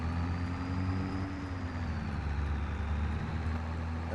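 A large used farm tractor engine runs steadily on a homestead, a loud, continuous low rumble with a faint whine on top, close and alone without talk.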